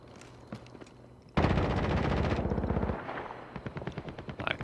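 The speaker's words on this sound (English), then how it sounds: "Trying to take a couple of shots at him if I can." Automatic gunfire in Call of Duty Warzone on PS4 Pro sounds as a loud sustained burst that starts suddenly, followed by quicker scattered shots and faint movement, with no talking.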